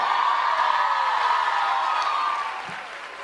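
Dense, steady crowd applause from an audience at a Dev Anand quiz show, a continuous wash of clapping that holds level and then eases off slightly near the end, with no voices over it.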